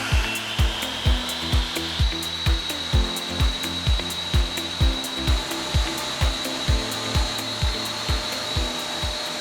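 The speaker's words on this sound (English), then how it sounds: "Can you run the table saw and a shop vac at the same time?" A table saw and a shop vac powered by a gas generator in a workshop, a steady whine with a rising pitch and a rapid run of sharp, regular knocks over a low drone.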